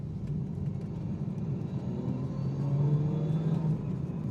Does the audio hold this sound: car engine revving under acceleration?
yes